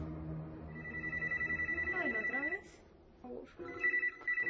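A telephone rings with a steady electronic trill that repeats in even bursts, interrupted midway by a sweeping tone and a brief lull before the ringing resumes.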